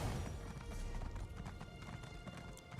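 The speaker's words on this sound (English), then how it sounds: "Running on my slow horse." A slow horse's hooves run steadily in Elder Scrolls Online, a rapid muffled clip-clop pattern under a dense wash of game ambience, fairly loud and continuous.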